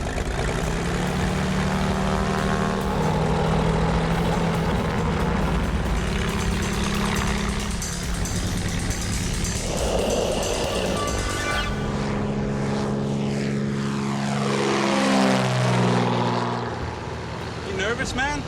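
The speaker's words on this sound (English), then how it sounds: "But as the plane climbs" A skydiving plane's propeller engine drones loud and steady inside the packed cabin as it climbs, with the engine pitch shifting partway through and people talking over the noise.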